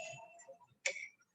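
A clock ticks once or twice, soft and close, in an otherwise quiet room during an online physics class.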